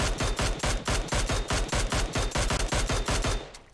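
Automatic gunfire in the PUBG Mobile video game rattles in a loud, rapid, unbroken burst of shots, close and dense, cutting off near the end.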